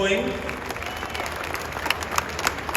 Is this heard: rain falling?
no